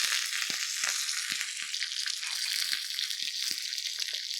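Curry leaves tempering in hot oil, with mustard seeds and dried red chillies in the pan, giving a loud, steady hiss and sizzle with scattered crackles and pops throughout.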